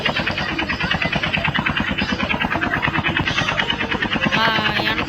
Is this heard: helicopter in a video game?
yes